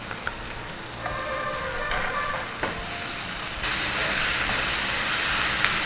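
Ginger garlic paste frying in hot oil, a steady sizzle with soft stirring scrapes and clicks, growing louder and brighter toward the end, no voices.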